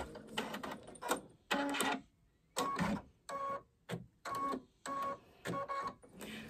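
An embroidery machine stitches whiskers on a bunny design in short, rapid mechanical bursts separated by brief pauses, close and clear.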